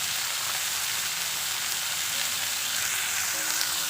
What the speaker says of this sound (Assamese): কিছু সময় এনেদৰে ভাজি দিছোঁ।